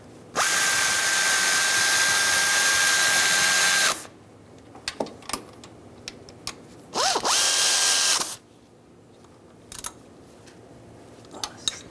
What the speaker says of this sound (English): And tighten those two bolts as well.